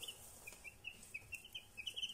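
A brood of sixteen week-old chicks peeps in quick, high repeated cheeps, faint and steady against a quiet background with no talking.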